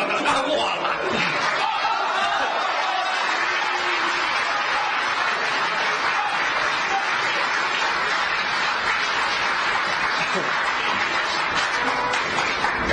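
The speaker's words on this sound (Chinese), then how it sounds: "谢朋友们的掌声鼓励" Applause and laughter from a theater audience at a Chinese crosstalk comedy show, a dense, steady clatter of clapping that runs unbroken for the whole stretch, loud and close with scattered chuckles mixed in.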